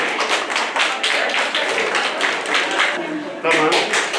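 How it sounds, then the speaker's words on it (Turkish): Strong applause at a women's regional cooking contest in Van for the third-place noodle soup winner, steady crowd clapping throughout with a voice talking over it. "Erişte üçüncülüğünü kazanan Saniye Şahin'e güçlü bir alkış"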